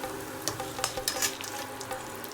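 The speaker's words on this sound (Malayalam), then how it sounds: "ഗോൾഡൻ കളറാവുന്നവർ വറുത്തെടുക്കുക." Coriander seeds, cumin and dried chillies roasting in ghee in a pan, giving a soft, steady sizzle with light crackles and scraping stirs, close and unaccompanied by talk.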